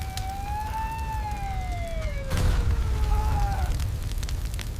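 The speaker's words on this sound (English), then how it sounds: "The explosion shredded the fuselage, as flames violently poured from gaping holes in the aircraft." A fighter jet is hit in an explosion sound effect: a loud low rumbling blast bursts in partway through, under a falling siren-like tone and a continuous roar.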